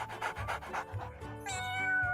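A cat gives a short series of close, clear meows, several quick calls followed by one longer drawn-out cry, with no talking.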